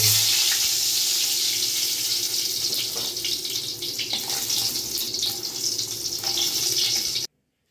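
Turmeric-coated eggplant slices fry in hot oil in a pan, giving a steady, fairly loud broadband sizzle that holds evenly for several seconds before cutting off abruptly.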